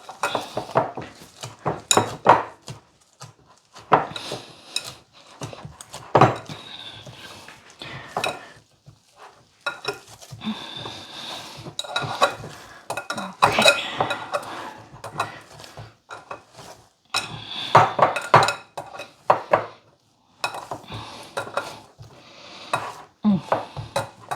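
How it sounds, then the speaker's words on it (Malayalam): Cream bun dough is mixed in a bowl, heard as bursts of clinking, scraping and knocking on the bowl with short quiet pauses between rounds. "ഒന്നും കൂടി ഒന്ന് സോഫ്റ്റ് ആകാനായിട്ടാണേ മിക്സ് ചെയ്തെടുക്കാം"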